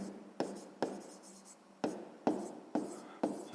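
A pen writes by hand on paper while working a fifth-grade maths exercise, in short separate strokes and scratchy bursts that start and stop, close and fairly quiet, with no talking.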